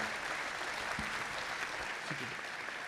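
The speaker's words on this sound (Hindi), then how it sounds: "जोरदार तालियां दीजिए आदरणीय राजेश रेड्डी साहब को" Audience at a Hindi poetry gathering (kavi sammelan) applauding poet Rajesh Reddy: continuous, even clapping from a crowd, with faint voice fragments beneath.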